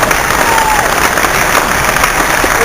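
Applause and cheering from a large crowd at a political rally in Orlando, a steady dense wash of clapping and voices filling the whole stretch, loud and close throughout.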